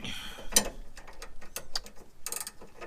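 A ratchet wrench tightens the rear end link nuts on a Mazda 5, giving quiet bursts of close mechanical clicking in short, uneven runs.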